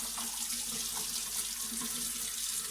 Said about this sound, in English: when you rinse the mask